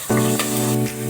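Cumin, black pepper and curry leaves frying in hot oil for millet pongal, a steady close sizzle with a louder hiss as ingredients drop in, running without talk.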